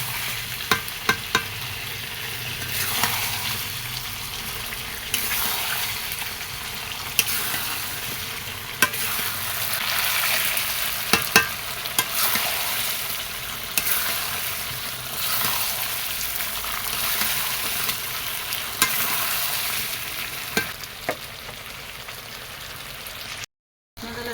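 Meat sautéed and stirred in a pan for mutton and khichuri, a continuous close sizzle and fry with repeated spoon scrapes and stirs against the pan.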